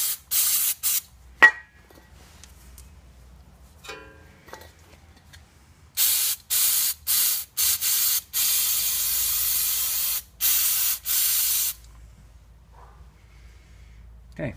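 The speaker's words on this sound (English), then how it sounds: "I like to spray this off, clean it off." Brake cleaner sprayed onto the front brake of a 1996 Honda CR-V in a series of loud, close aerosol hisses, several short bursts and some longer ones, separated by quiet pauses.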